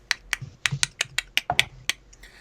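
A person mouths a series of sharp, hollow clicks, imitating an unseen creature rustling nearby during a tabletop fantasy adventure; about ten crisp, evenly spaced clicks, close and fairly quiet, with no speech.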